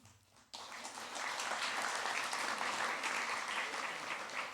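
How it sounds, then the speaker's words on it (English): Audience applause at a middle school closing awards ceremony, quiet at first and then breaking into steady, dense clapping from a crowd that holds to the end. "We might want to wait till the end to applaud"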